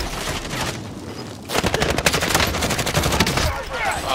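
Gunfire in the Call of Duty video game, rapid automatic bursts and scattered shots crackling loudly, with players' voices faintly underneath.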